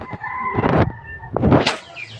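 Rooster crowing up close on a duck farm, two loud harsh calls in quick succession, with faint farmyard background.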